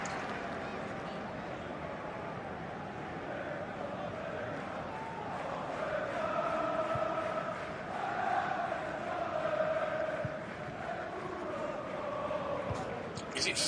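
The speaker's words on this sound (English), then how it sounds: "He gets the adulation of the Etihad crowd." Crowd at the Etihad Stadium cheering and applauding as Manchester City's Phil Foden is substituted during a match against Manchester United, a broad steady roar that swells slightly in the middle.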